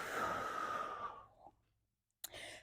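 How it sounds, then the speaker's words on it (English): A long, deep breath drawn during a leg-day warm-up routine, a soft airy rush close to the microphone that fades into silence, followed by a short breathy resumption. "Take an inhale."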